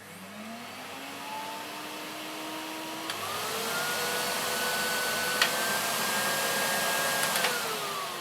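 A Panasonic vacuum cleaner runs steadily and up close as its motor whine steps up twice, through its minimum, medium and maximum settings. Each step raises the pitch and loudness a little, and a few faint clicks come in between, with no talking.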